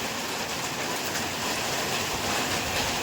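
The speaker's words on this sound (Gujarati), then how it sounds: "અત્યારે તો વરસાદ આવી ગયો છે" Heavy monsoon rain falls steadily outdoors in a village, a dense, constant hiss at moderate loudness with no voices.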